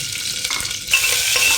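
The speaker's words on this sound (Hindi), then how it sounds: "प्याज इधर फ्राई हो रहा है" Chopped onions hiss and sizzle in hot rice bran oil with bay leaf, a steady frying crackle that brightens and grows louder partway through, with a few stirring scrapes and no voices.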